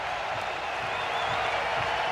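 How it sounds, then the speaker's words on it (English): Playoff baseball crowd at a ballpark, a continuous broad roar of cheering and applause that holds steady and swells slightly toward the end, with no clear talk. "Now the playoff crowd comes alive."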